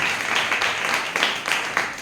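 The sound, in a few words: congregation clapping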